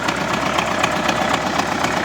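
An MTZ-80 tractor engine idles close by, a steady rough diesel rumble with fast regular knocking pulses and no speech.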